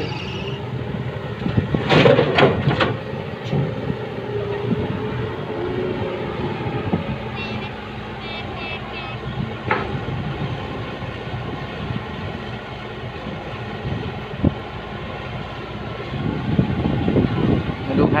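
A modified vehicle with a loud, oversized 8 to 10 inch noodle-pot style exhaust on a climbing road in Surin, Thailand, roars past in loud bursts near the start and again at the end, with wind and rumble between.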